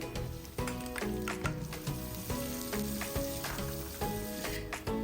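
Garlic and onion sauté in a pan with a steady, close sizzle and occasional stirring scrapes, set against background music.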